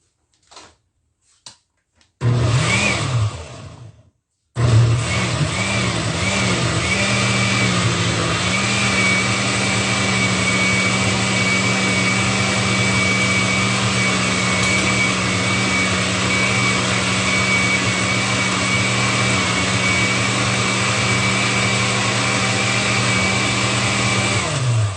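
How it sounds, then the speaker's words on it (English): A blender chops and purees tomatoes with no water added. A few short pulses come first, then a loud, steady motor whine runs uninterrupted for about twenty seconds, with no talking over it. "we're just going to go ahead and blend"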